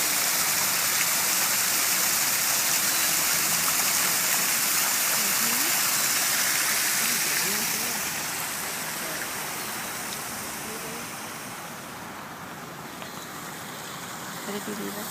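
Water pumped up from a lagoon pours through an ornamental water sculpture in a nature park, a steady loud rushing splash that eases somewhat after the midpoint.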